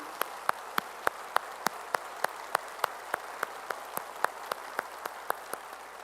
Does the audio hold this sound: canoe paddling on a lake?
no